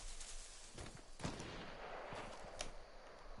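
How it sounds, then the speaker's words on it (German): Gunfire in the video game Fortnite: a few distant shots, the clearest near the middle and another toward the end, over a steady background of game ambience. "Hier war doch noch gerade irgendwo ein Schuss."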